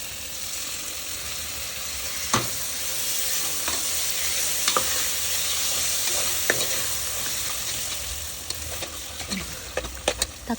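Chopped tomatoes fry in hot oil with biryani masala for a seeraga samba chicken biryani in a pressure cooker, giving a steady close sizzle broken by occasional scraping stirs and clinks.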